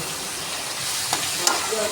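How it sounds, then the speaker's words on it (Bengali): Greens and egg sizzle steadily in a hot wok, a bright constant crackle with a couple of small clinks as they are stirred, no talking. "ডিম দিয়ে শাক ভাজা হয়ে গেছে এক কড়া শাক কোথায় নেড়েছে দেখুন"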